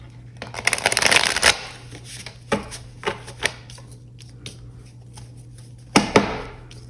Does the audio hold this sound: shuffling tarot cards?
yes